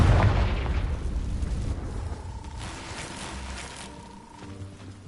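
A Confringo blasting spell bursts in Hogwarts Legacy on PlayStation 5, opening with a loud low boom that decays into a rumbling tail, with a faint sustained tone and scattered crackles fading over several seconds.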